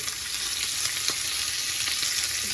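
Lobster tails cook gently in a pan, giving a steady close sizzle with faint crackles and a light stir or two, continuous throughout and free of talk.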